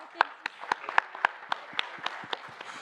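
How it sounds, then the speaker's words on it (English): A small group at a university hackathon claps for missing team members, a few sharp, distinct hand claps in an uneven rhythm, close and quiet, with murmured speech faintly beneath. "Let's clap for them."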